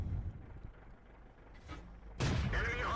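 Tank cannon shots in World of Tanks: faint low rumbling gives way to a sharp, loud cannon blast with a reverberant tail near the end, after a softer thump midway.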